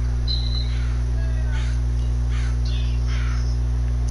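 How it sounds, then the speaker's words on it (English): A crow caws several times outdoors during a hunting outing, moderately loud over a steady low hum and background noise. "Crow, can you shut up?"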